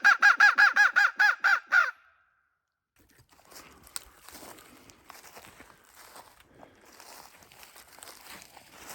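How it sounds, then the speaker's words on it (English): Crow cawing close and loud, a run of about eight harsh caws in quick succession, then quiet rustling and crunching footsteps on a torn-up road. "Call us in a crow right here."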